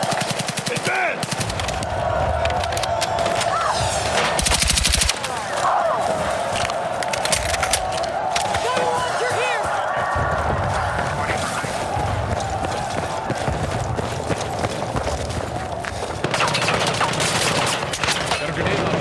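Sustained machine gun cover fire in a Battlefield 6 night raid, dense rapid bursts of automatic gunfire close by with scattered shots and shouting soldiers in the background, loud throughout.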